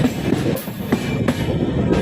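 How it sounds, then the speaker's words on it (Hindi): A train pulls into Gandhinagar Jaipur station with a steady low rumble and repeated sharp clicks of wheels over rail joints, close and continuous for a couple of seconds. "अब कुछ ही सेकंड में अपनी ट्रेन गांधीनगर पर पहुंचने वाली है।"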